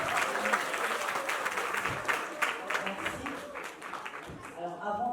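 Applause from guests at a surprise birthday party for a mother, steady clapping filling the room for about five seconds with voices talking and cheering over it.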